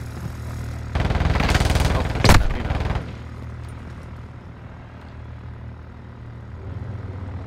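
Gunfire rings out in Call of Duty DMZ, a dense two-second burst of rapid shots with one sharp, louder crack partway through, then a steady low engine-like drone continues beneath faint game ambience.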